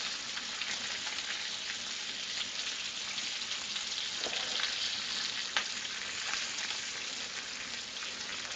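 A ribeye steak sears in a hot pan, giving off a dense, even sizzle that holds steady throughout with a few sharper pops, close and continuous, with no one talking.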